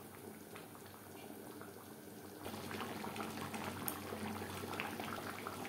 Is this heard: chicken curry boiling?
yes